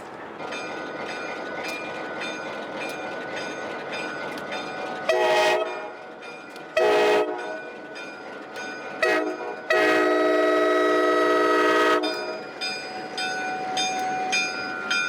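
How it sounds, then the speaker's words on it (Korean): A train horn sounds several times as a train departs a US border station toward Skagway, Alaska: a few short blasts followed by one long one, loud and close over the rumble of the moving train. "승객을 내려준 기차는 기적 소리와 함께 종착역인 미국 알래스카 스케그웨이를 향해 다시 달린다."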